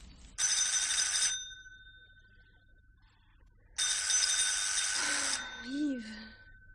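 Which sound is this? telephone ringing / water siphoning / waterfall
telephone ringing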